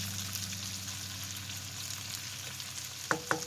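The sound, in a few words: potatoes and bacon frying in a pan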